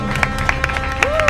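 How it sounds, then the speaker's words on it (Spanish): Studio audience applause on a Spanish radio show as a guest arrives, a broad clapping wash mixed with rhythmic claps and music-like tones, with a voice briefly heard over it. "Un aplauso."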